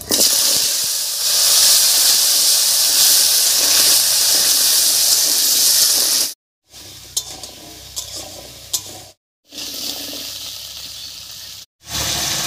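Potato pieces sizzle loudly in hot oil over whole tempering spices (dried red chillies, whole garam masala, bay leaf, cumin) for a Bengali drumstick ghanto, a steady bright hiss broken by brief silent gaps and clattering stirring.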